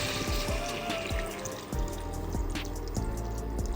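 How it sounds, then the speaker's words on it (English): Water pours into a pot of partly cooked chicken for Chinese chicken soup. It gurgles and splashes steadily up close, with a few light clinks of the pot. "I'm going to add in some water"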